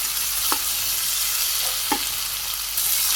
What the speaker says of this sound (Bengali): এই চার টুকরো টমেটো আমি দিয়ে দিলাম পেঁয়াজের মধ্যে তো সাথে একটু হালকা ভাজি করে নিই